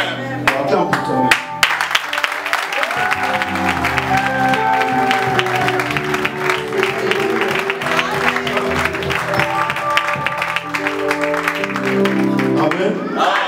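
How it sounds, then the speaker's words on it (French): A church congregation cheers and claps loudly and densely, mixed with sustained keyboard-like music and scattered voices that carry on throughout. "Acclame pour toi."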